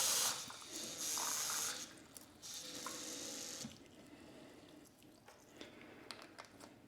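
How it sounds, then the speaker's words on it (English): Tap water runs into a gel flask holding a sports fuel mix: a loud hissing, splashing stream for the first few seconds, then a quieter, steady trickle with small drips, and no voices. "Half mix it, then fill it up with water all the way."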